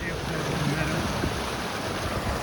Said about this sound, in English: this stream with waterfalls surrounded by towering peaks